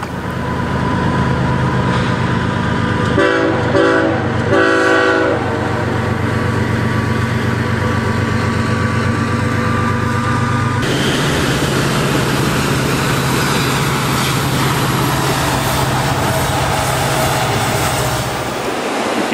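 A train on a riverside track rumbles past with a steady, heavy roar and some rattling for the whole stretch. The sound changes character partway through and stays loud and close.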